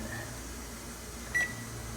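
Oven timer being set to 30 minutes for baked pork chops, a single short electronic beep over a steady low appliance hum.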